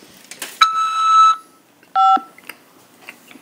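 Two electronic beep tones from a prison collect-call system at a corrections facility, a longer steady tone followed by a shorter one, clear and close on a phone line with faint clicks between them.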